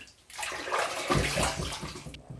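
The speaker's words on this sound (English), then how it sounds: "Let's rinse." Running water rinses a face after a shaving pass, a short, close and steady splashing rush that swells and then fades.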